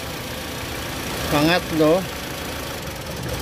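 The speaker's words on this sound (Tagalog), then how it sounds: "okay din to kasi nanginginig yung makina" A Mitsubishi Lancer EX engine idles with a steady mid-pitched hum during an ignition coil test, while someone briefly speaks over it.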